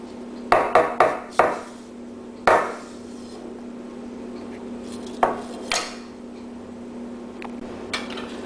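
A serrated bread knife striking the stainless steel mesh of a cut-resistant glove, a quick burst of sharp metallic taps followed by a few more spaced clinks, each ringing briefly over a faint steady hum.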